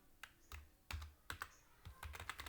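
Computer keyboard typed on in quick irregular clusters of clicky keystrokes, close and crisp against a quiet background with no talking.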